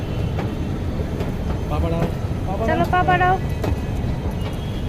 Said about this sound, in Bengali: তো এই যে মেট্রো চলে এসেছে